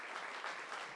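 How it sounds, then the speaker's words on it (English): An audience applauds an Assembly member who is stepping down, a dense, steady wash of many hands clapping for one second with no voices on top. "Give her a round of applause."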